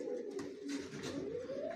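Racing pigeons in a loft coo continuously in low, rolling calls, several birds overlapping at moderate volume with no talk.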